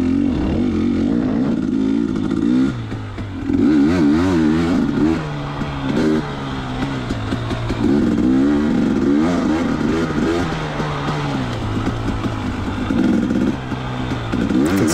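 A 2019 KTM 250XC two-stroke dirt bike rides a trail in an OHV play area, its engine loud and close, rising and falling in repeated revs and gear changes with some clatter.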